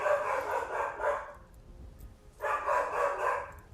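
Dog barking in the video game Skyrim: two bursts of rapid barks, each about a second and a half long, with a short quiet gap between them. They sound fairly close and come through clearly with no talking over them.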